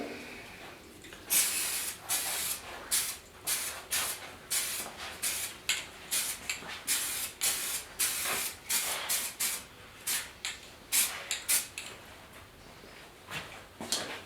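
Short repeated bursts of a spray gun apply patina paint to the front fenders of a 1956 Mercury, hissing close and fairly loud in an irregular on-off rhythm with brief pauses between passes.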